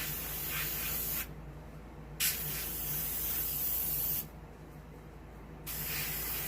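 Two long close hissing bursts of base coat sealer sprayed onto a piebald doe deer mount, separated by a short pause with a brief click, then a second sustained spray.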